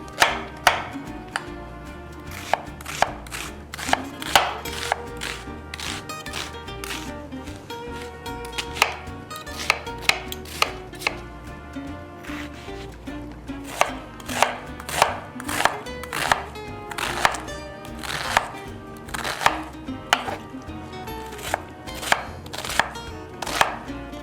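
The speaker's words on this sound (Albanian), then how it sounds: "Presim qepën të vogël." A knife chops an onion on a board in quick, uneven runs of sharp taps, close by and steady for a long stretch.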